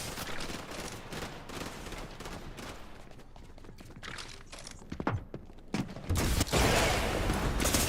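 Gunfire in the Fortnite video game, bursts of rapid shots crackling in clusters, sparse at first, then sharper near blasts toward the end with louder sustained firing.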